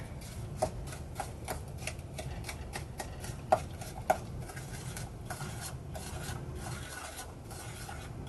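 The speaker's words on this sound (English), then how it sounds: "I'm going to stir these together." A spoon stirs and scrapes through a thick brown sugar mixture for saltine toffee cracker candy, giving steady, close rasping strokes with a few sharper knocks against the pan and no talking.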